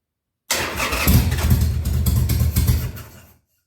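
A 2000 Harley Sportster 1200C being started for the first time in six years, with a loud, close rumbling crank and sputter lasting about three seconds before it fades out.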